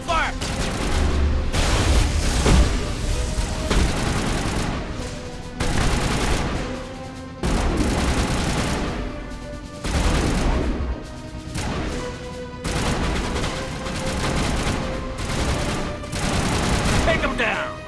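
Gunfire in a Mass Effect cutscene firefight, repeated loud volleys of shots and crashing impacts in bursts across the scene, over a droning background with some voices.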